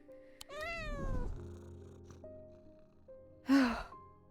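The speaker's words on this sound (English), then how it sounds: "I hold him tight to my chest and he rubs his chin with the back of his head, purring with delight" A cat in the video game Strange Antiquities gives a rising meow and a soft sigh-like exhale, followed by a louder breathy vocal burst near the end, over a quiet game-music drone.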